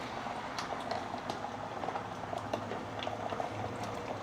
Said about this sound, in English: Then I'm going to add in some filtered water,